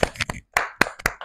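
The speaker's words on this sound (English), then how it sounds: "Clap for her." Several sharp hand claps from a small group of children cheering a kids' quiz contestant, irregular bursts separated by brief gaps, close and fairly loud.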